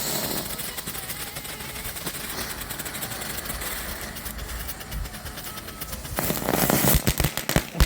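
A Bayou tank consumer firework fires during a Fourth of July backyard display, giving a long fizzing, crackling burn with rapid popping that grows louder and denser toward the end.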